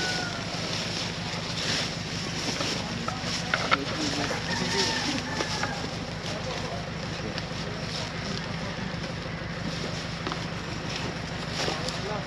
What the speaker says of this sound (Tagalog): Mukhang malakas ang ulan.